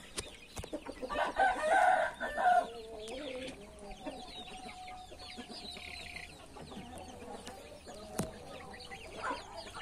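Chickens clucking and a rooster crowing in a yard, a rising crow near the start and scattered clucks and bird calls through the rest at moderate distance, with no talking.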